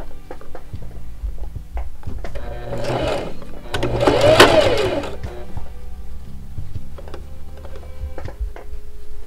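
A sewing machine stitches a fabric seam on a baby bucket hat with a steady, close mechanical whirr that swells briefly in the middle before settling back to an even run.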